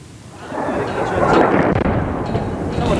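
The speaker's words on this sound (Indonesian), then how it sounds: "Sejumlah ledakan terjadi di Bandar Udara Internasional Sanaa di Yaman." Deep rumbling explosions at Sanaa International Airport, Yemen, rolling together into a loud, sustained roar, heavy and booming throughout.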